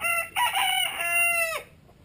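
A rooster crows once, loud and close, a long ringing call that rises then trails off into quiet.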